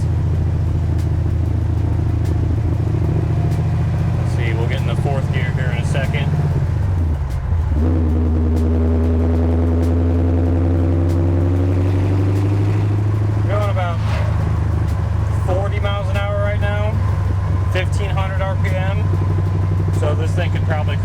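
A 1972 Chevy Nova with a 454 big block V8 drones steadily and loud while driving, its deep exhaust rumble rising and falling as it shifts and accelerates, with someone talking over it at intervals.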